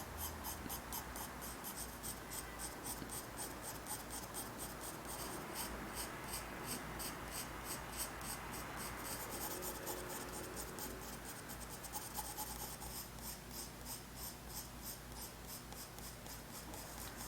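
Colored pencil shades an apple drawing on paper, giving a steady, close scratching and rubbing of many short strokes throughout, with no talk.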